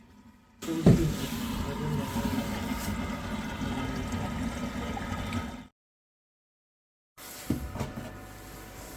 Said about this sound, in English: it's making some sort of strange gurgling noises when it's trying to fire it up.